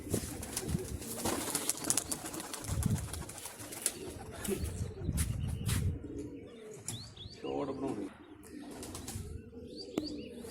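Pigeons, including red and black marked birds, being released outdoors: scattered cooing and chirps with bursts of wing flapping, while someone speaks briefly nearby.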